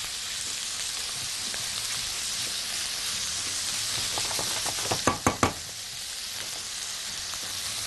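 Vermicelli sizzles steadily in a hot pan as it fries golden, a dense continuous hiss with a quick run of clicks and taps from stirring partway through.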